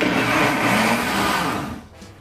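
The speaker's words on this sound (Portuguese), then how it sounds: "Nós vamos bater aqui uns 3 minutinhos mais ou menos, 3 a 4 minutos" An electric mixer whirs loudly and steadily as it beats pineapple and coconut cake batter, then winds down at the end.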